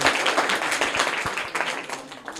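Audience at a classroom quiz show gives enthusiastic applause, a dense patter of many hands clapping steadily through the short burst.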